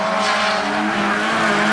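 Rallycross race cars roar past on the Mora track during a heat, a BMW among them, engines loud and continuous with tire noise and skidding, no talk over it.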